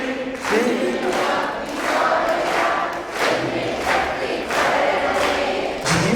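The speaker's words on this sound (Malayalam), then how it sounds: "കൈയടിച്ച് പാടാം" A congregation at a Malayalam worship retreat claps in steady rhythm while singing together, the claps falling roughly twice a second beneath massed voices, loud and continuous.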